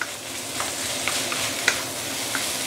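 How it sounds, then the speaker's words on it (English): A constant hiss of fish bones frying in a pan over high heat, with a few scattered scrapes and clinks from stirring spaced across it. "continue frying the fish bone for a while"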